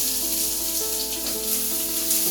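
Onions sizzling in butter in a pan, a steady dense hiss close by with no talk, mixed with a constant background hum.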